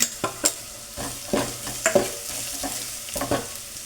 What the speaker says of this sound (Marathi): कडीपत्ता मोहरी टाकून घेतली मी याच्यातली लाल तिखट टाकणार आहे